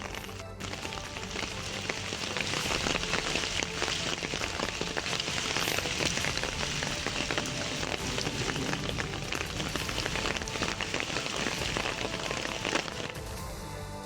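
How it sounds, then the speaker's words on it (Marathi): Dense, steady patter of unseasonal rain falling in Ratnagiri, Maharashtra, a constant broadband wash with no voices, ending with a slight drop in level. "रत्नागिरीत सलग दुसऱ्या दिवशी अवकाळी पाऊस पडलाय"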